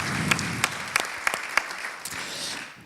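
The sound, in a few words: audience applause for Hervé Casterman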